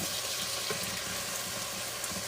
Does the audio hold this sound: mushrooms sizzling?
yes